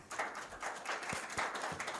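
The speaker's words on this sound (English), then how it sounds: "let's give him a big round of applause, please" Faint, brief applause from a church congregation during a Sunday service, soft scattered claps in an irregular rhythm, heard at a distance and at low level.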